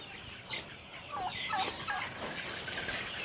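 A flock of Fayoumi chickens raised on a farm in winter gives faint, scattered gobbling calls and clucks, heard at a moderate distance over a quiet background.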